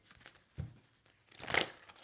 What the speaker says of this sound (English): I'm having to shuffle the cards